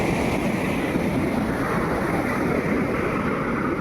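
Continuous roar of rising high-tide surf washing onto a beach during monsoon and typhoon weather, loud and unbroken, mixed with wind buffeting the microphone.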